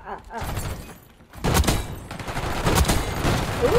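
Gunfire from an SVD sniper rifle fitted with an iron sight in Black Ops 6, with loud sharp shots after a brief quiet gap amid busy game noise and some talking.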